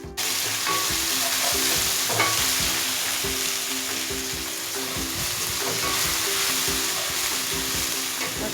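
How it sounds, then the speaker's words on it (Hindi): Garlic ginger paste goes into golden brown onions frying in a pan, giving a steady, close sizzle with stirring scrapes throughout and no talking. "प्याज गोल्डन ब्राउन हो गया है। अब मैं इसमें लहसुन अदरक के पेस्ट को शामिल करूँगी"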